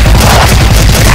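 Grenade blast in a shooting video game, a loud booming burst with rumbling low rolls packed into a single second, close and saturated.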